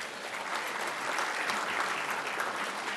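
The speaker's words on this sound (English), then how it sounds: "Give yourselves a round of applause." Dense, steady applause fills the room from a seated audience at a First Amendment awards dinner, many hands clapping at once without pause for about three seconds.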